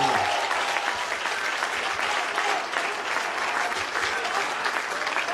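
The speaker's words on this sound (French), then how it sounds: "Applaudissez-vous." A crowd of more than a thousand people at a Panafrican awards ceremony applauds, producing a thick, continuous wash of clapping that stays loud and even throughout, with no speech over it.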